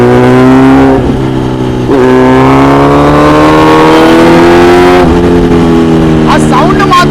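A Kawasaki Z900 motorcycle engine hums and revs while riding, a loud, smooth multi-cylinder drone that shifts pitch with throttle changes and gear shifts, with wind rush across the microphone.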